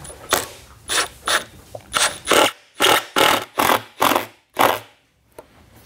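A power driver sinks black drywall screws into a subwoofer box for a Dayton Audio Ultimax 18-inch build, in about ten short whirring bursts, each separated by a brief pause, loud and close with no talking.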